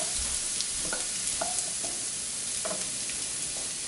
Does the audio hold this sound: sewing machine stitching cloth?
no